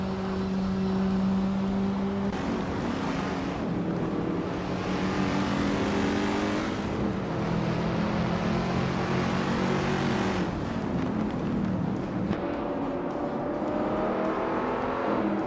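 Several race cars scream past in close pursuit, their engines whining at high revs and shifting pitch through gear changes in a continuous, loud, overlapping roar.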